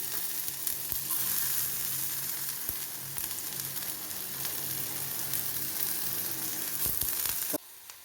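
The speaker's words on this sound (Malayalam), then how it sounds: "കടുക് പൊട്ടി, ഉലുവ പൊട്ടി, ഉള്ളി ഇട്ടു." Sliced onion sizzles steadily in hot oil along with popped mustard seeds and fenugreek, a close, even frying hiss with a few faint stirring clicks and no talk.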